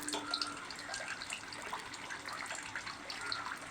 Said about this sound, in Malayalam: നമുക്ക് തിളയ്ക്കാൻ വേണ്ടിയിട്ടുള്ള വെള്ളം ഒഴിച്ചു കൊടുക്കണം